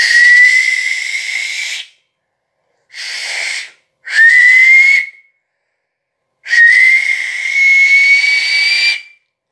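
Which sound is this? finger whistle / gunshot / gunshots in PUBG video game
finger whistle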